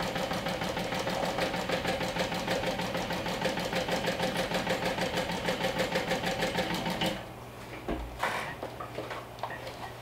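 A sewing machine runs fast and steady while back-stitching a curved seam, its rhythmic mechanical chatter carrying on for several seconds, then stopping, followed by a few handling clunks.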